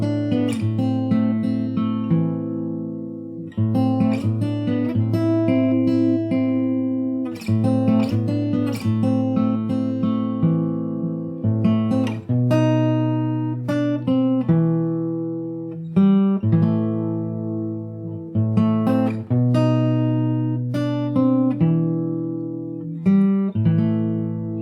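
A fingerstyle guitar plays a main theme riff, plucked notes over steady bass tones, close and clear with no talking.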